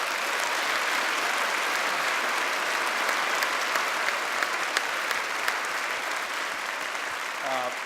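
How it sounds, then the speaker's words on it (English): Dense, sustained applause from a large audience at an event on national security, steady clapping filling the room without a break. "the real people who should get the applause tonight are all of you who serve our country"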